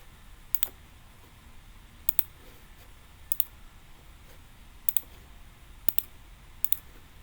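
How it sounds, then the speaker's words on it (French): Mouse clicks on a save button in a web interface, six sharp isolated clicks spaced about a second apart, quiet and close against a faint background hum. "On clique sur sauvegarder."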